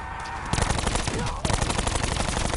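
Rapid automatic gunfire in the shooter Black Ops 4 roars loud and close, with dense continuous bursts broken by a brief pause before the firing resumes.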